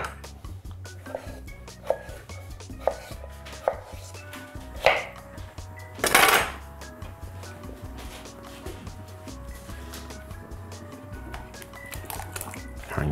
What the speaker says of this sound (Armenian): կարտոֆիլը կտրատենք։